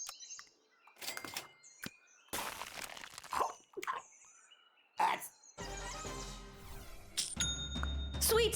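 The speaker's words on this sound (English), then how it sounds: "could it be the sound of another sale for your online Shopify store that you definitely have?" A Shopify store sale notification chimes as a bright, ringing ding near the end, after a scattered run of short clicks, chirps and clatters with quiet gaps between them.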